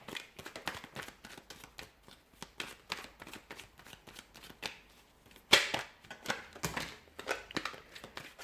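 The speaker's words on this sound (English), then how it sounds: "Oh, I've got a few cards that have fallen out. Just going to reshuffle." A deck of tarot cards is reshuffled by hand, producing close, rapid bursts of riffling and flicking with brief pauses between bursts and one sharper snap near the middle.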